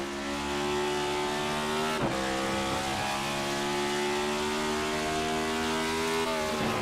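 Cup Series race car from a racing video game howls out of the carousel at Road America, a loud sustained engine drone with steady harmonic pitch and a brief dip near two seconds as gears change, continuous throughout.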